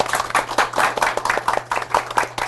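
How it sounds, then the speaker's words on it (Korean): An audience claps for three MCs at a live CEO talk show event, scattered hand claps in quick uneven rhythm, moderately close, with a steady low hum underneath. "오늘 진행 맡은 세 분의 MC분들 박수 부탁드리겠습니다."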